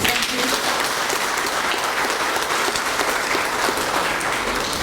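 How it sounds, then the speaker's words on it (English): Sustained applause from an audience at an International Women's Day event in Fiji, a dense, steady wash of many hands clapping that holds evenly for several seconds without a break. "it calls for another round of applause"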